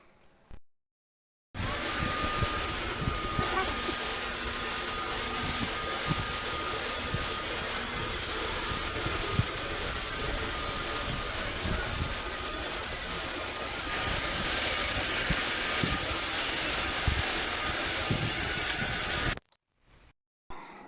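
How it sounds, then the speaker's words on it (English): A Riccar 25 series vacuum cleaner runs steadily on a hair-covered floor, a loud continuous motor whine and airflow roar lasting nearly twenty seconds, starting and cutting off abruptly. "First, we will test the new vacuum, the Riccar 25 series."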